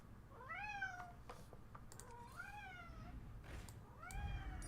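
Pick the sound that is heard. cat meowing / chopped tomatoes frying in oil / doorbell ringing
cat meowing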